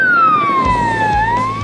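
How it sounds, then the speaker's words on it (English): A loud electronic siren from an SW6200 radio hailer wails close up, its pitch sliding down and then starting to climb again. "There's even a siren button."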